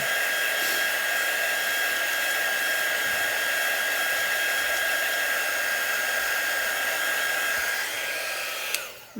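A hair dryer runs steadily to dry paint on a framed floral craft project, giving a continuous loud whine and rush of air that holds evenly before cutting off at the end.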